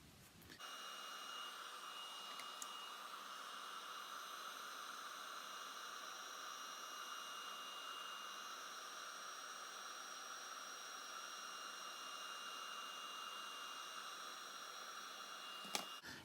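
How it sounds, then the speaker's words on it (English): Heat gun held steady while heat embossing gold powder on a Christmas card, blowing a continuous even whoosh with a hum. It switches on, runs unchanged for about fifteen seconds, then stops. "I'll be heating it with the heat tool so that it then becomes a bright gold."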